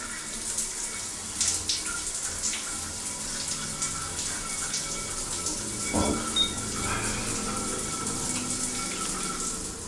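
Water running from a shower fed by a digital water heater in a renovated home, a soft continuous hiss with small splashes and a brief gush partway through, fairly quiet and without talk.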